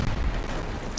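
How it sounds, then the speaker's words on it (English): Grenade explosion in the World War II shooter Day of Infamy, a loud, dense boom with heavy low rumble that fills the second and decays slowly, no voices over it. "Let's clear this with a grenade."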